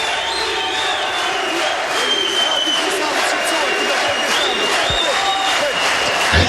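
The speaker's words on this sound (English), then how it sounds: "Listen to the roar." A home crowd at a men's 69 kg weightlifting championship roars and applauds continuously, a loud, dense wall of cheering and clapping that holds steady throughout.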